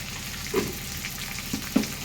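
Ingredients for puffed rice upma fry in a pan with a steady close sizzle, and a few soft stirring scrapes rise above it.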